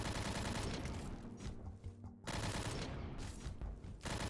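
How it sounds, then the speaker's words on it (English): Sustained automatic gunfire in a DOOM-like first-person shooter game, dense and loud bursts with bullets ricocheting off walls, broken by a short lull before the firing resumes. "I thought the bullets were ricocheting off of the wall"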